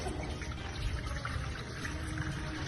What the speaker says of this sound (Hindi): छन्ना रखकर ध्यान से बाल्टी में भरे हुए पानी को धीरे धीरे उस छन्ने के माध्यम से उस घड़े में छोड़ना चाहिए।